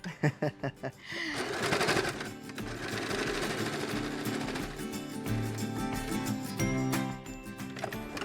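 A sewing machine runs steadily while stitching a seam on a handmade thermal baby-bottle holder, with a few sharp clicks before a long, even mechanical whir that fills the rest of the clip.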